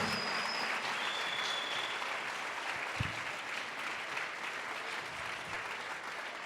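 A church congregation claps together as an offering to Jesus, a sustained, moderately distant patter of many hands filling the room, with a brief thump near the middle.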